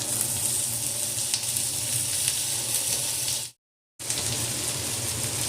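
Chopped onions sauté in a pan for a capsicum side dish, a steady close sizzle and crackle with a short break of silence midway before the frying resumes.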